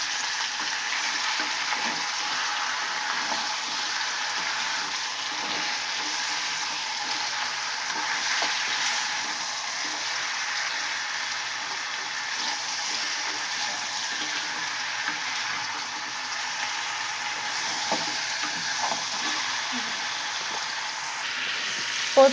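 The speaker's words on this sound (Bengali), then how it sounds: "এটা ভালো করে নেড়ে নিব" Spiced meat, rubbed with salt, turmeric, meat masala and chilli, sizzles steadily in a pan while being stirred, a continuous close frying hiss with faint scraping throughout.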